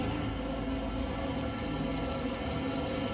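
Water gushes steadily and loudly from the hot tap of a Burstner Aviano motorhome fed by a non-pressure pump, a constant close-up rush with no talking.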